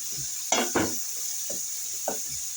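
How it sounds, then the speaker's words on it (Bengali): Fish with spices being fried down in a pan before bottle gourd goes in: a steady sizzle under a series of scraping stirs and clinks of a spatula. "একটু ভাজা হয়ে গেল আর এদিকে মাছটাও কষানো হয়েছে এখন লাউটা দিয়ে দিব"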